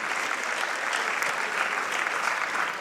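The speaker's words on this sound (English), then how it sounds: "So give yourselves a round of applause." Audience applause from a crowd at a live game-reveal event following the Donkey Kong Bananza reveal, a dense steady clapping that stays loud and even throughout with no talk over it.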